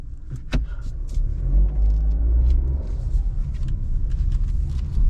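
A Chevrolet Trax is driven slowly across a dealership lot and parked, its low engine rumble steady and close, with small cabin clicks and movement noises around it.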